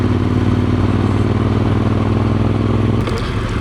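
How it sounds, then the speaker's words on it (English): A motorcycle engine drones steadily and loudly throughout a ride, a close, continuous mechanical hum with a slight shift in tone near the end. "Motorcycles are the only thing that seems to have some staying power with me."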